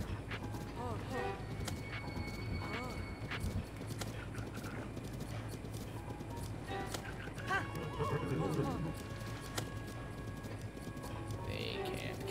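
Horse in the video game Breath of the Wild, hooves clip-clopping at a gallop with occasional neighs, heard under game music and someone talking over it.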